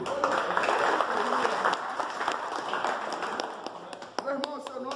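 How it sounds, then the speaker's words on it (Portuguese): Applause from a church congregation at a fellowship gathering, a dense, steady wash of clapping for about five seconds with voices mixed in, easing slightly toward the end. "aplaudir."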